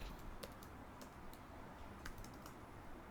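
Typing on a computer keyboard while entering a journal entry, a quick run of light clicking keystrokes in short bursts over a steady background hiss, close and fairly faint.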